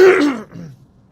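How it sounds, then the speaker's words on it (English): A single person clears their throat loudly and close by, a rough burst lasting under half a second that fades into a short low rumble and then quiet. "Excuse me, I was clearing my throat."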